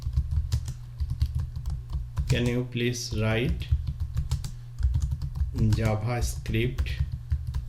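Fingers type a question into a ChatGPT prompt on a computer keyboard in steady, close clicking bursts, with someone talking over much of it.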